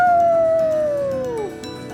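A person's voice imitating dogs, a single long sliding howl that falls steadily in pitch and trails off, loud and close with no other sounds.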